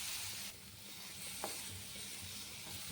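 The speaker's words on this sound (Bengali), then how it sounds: "ওই চিংড়ি মাছটা আমি এখন এই সামরিচ গুঁড়ো হলুদ আর ঘি দিয়ে ভেজে নিচ্ছি।" Shrimp frying in ghee with chilli powder and turmeric gives a soft, steady sizzle with a faint hiss, quiet and close, with one small brief tap partway through.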